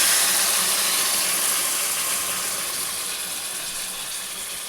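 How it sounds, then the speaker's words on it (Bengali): Marinated hariyali chicken hitting a hot wok with no added oil, a loud broad sizzle that slowly fades as it settles. "আমার কড়া গরম হয়ে গেছে, আমি কড়াতে এটা ঢেলে দেবো।"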